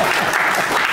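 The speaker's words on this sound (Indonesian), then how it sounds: "Tepuk tangan dong untuk saya." Audience applause at a public talk in Indonesia, a dense wash of clapping filling the whole second at steady loudness, with no clear speech over it.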